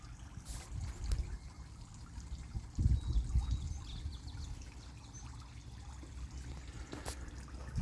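Water from a garden fountain trickles and splashes continuously nearby, with a few louder bursts of pouring and faint bird sounds in the background, no speech.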